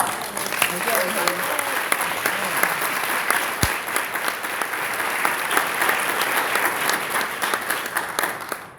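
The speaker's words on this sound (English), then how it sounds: "So with a big round of applause" Sustained audience applause welcoming a speaker at a cancer survivorship celebration in a hall: a dense, even wash of many hands clapping at steady loudness, with faint crowd voices mixed in.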